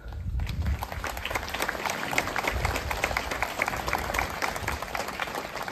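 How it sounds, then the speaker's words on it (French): A crowd at an outdoor 11 November commemoration ceremony in France applauds the newly elected children's municipal council members in their tricolour sashes, a steady, moderately distant patter of clapping after a brief lull. "vous pouvez les applaudir."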